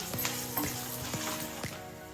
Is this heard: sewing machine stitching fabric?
no